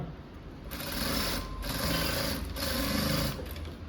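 A sewing machine stitches a blouse in three short bursts of rapid whirring, each lasting about a second with brief pauses between, close and fairly quiet.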